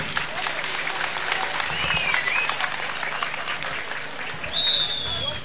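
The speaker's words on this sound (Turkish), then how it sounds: "Sizlerden bir alkış istiyorum," A crowd claps and cheers outdoors at a Turkish oil wrestling festival, a dense and steady wash of applause with a few whistles rising above it.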